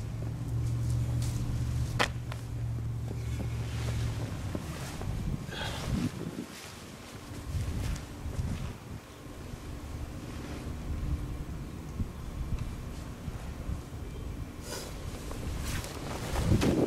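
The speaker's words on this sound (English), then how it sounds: "windy out here" Gusty wind buffets outdoors, a low rushing roar with rumbling blasts against the microphone, rising and easing over several seconds; no voices.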